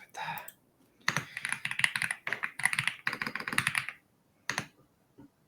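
Rapid typing on a computer keyboard, bursts of quick close clicks with short pauses, with brief speech nearby.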